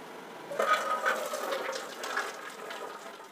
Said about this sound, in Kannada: ಇವಾಗ ಸೋಸ್ಕೊಳ್ಳೋಣ ಇದನ್ನೆಲ್ಲ, ನೀರಿನ ಅಂಶ ಎಲ್ಲ ಸೋಸ್ಕೊಳ್ಬೇಕು